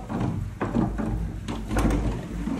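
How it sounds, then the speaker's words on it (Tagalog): Resort room door in Calatagan, Batangas being opened, a few soft knocks and sliding scrapes close by with no talk. "Buksan natin yung pinto."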